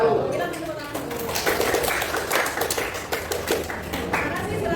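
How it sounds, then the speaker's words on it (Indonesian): Small classroom group clapping hands after a teachers' training presentation in Indonesia, a scattered run of claps with voices murmuring throughout. "Kita tepuk tangan dulu."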